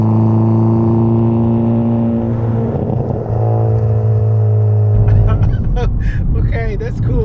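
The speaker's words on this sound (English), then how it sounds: "the exhaust changed completely the sound" A Hyundai i30N exhaust in N sport mode holds a loud, steady droning note, then swells into a rougher, louder rev with crackling toward the end, heard close up.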